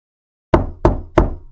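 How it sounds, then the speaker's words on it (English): Three firm knocks on a door at a steady, unhurried pace, close and loud against an otherwise silent room. "Someone knocked on my door."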